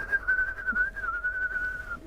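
A person whistles a steady, thin, bird-like note for about two seconds outdoors, imitating a bird call, with faint background ambience.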